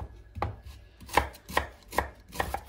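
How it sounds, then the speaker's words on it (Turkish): A single onion chopped with a knife on a cutting board, five crisp, evenly spaced thuds of the blade striking the board, close and clear with no talk. "İlk önce soğanları doğramakla başlıyorum"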